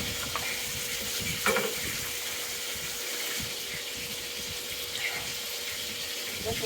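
Dried oregano is rinsed under a running kitchen tap, a faint, steady water stream with small splashy fluctuations and a few soft knocks.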